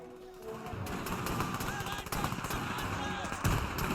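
Battlefield gunfire and booming artillery from the WWII strategy game Men of War II, a dense continuous din of shots and blasts with louder bursts near the end.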